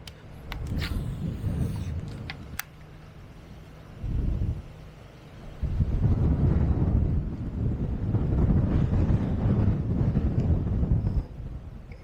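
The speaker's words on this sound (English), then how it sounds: "Goodness gracious, this wind." Strong wind buffets the microphone on a Florida canal bank near Lake Okeechobee, roaring in heavy low gusts that ease briefly and then surge back loud and sustained for several seconds.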